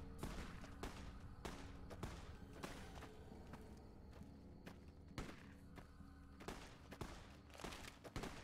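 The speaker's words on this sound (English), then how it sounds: "What the heck is shooting?" Sporadic gunfire crackles in a Fallout: New Vegas gameplay scene, with several sharp shots scattered irregularly over a steady low rumble, some close and loud, others more distant, and no talking.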